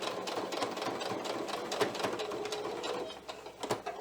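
A sewing machine stitching pixie wings onto a fabric top runs in a close, steady mechanical whir, its rapid needle rhythm continuing almost without pause, with a brief slowdown near the end.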